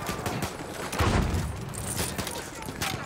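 Dense gunfire from many players in Battlefield 1 multiplayer, a continuous crackle of shots with a heavier burst around the middle, mixed under a speaking voice throughout.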